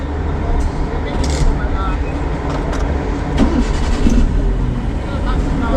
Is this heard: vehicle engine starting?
yes